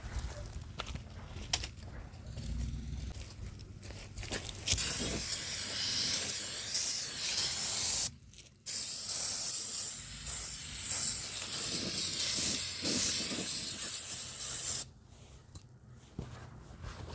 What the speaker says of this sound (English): let's get some brake clean